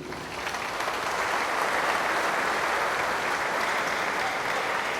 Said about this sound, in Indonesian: kita berikan tepukan yang hangat untuk ibu ini